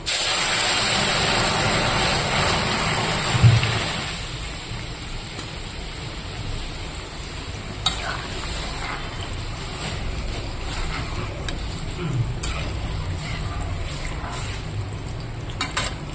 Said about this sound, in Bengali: পেঁয়াজটা হয়ে গেছে এবার আমি ডালটা ঢেলে দেবো